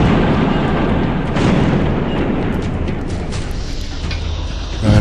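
Bombs detonate in the vehicular combat video game Twisted Metal 2, a loud, dense rumble of blasts and crackling debris filling the whole stretch with no break.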